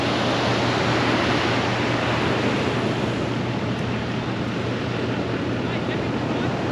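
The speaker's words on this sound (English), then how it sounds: "There's the beach." Surf breaking on a South Australian beach along a sandy 4WD track between Beachport and Robe, a loud steady roar of waves mixed with wind buffeting the microphone.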